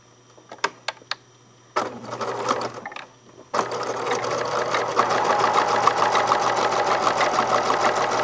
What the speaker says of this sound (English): now I'm going to sew the other side of the tape down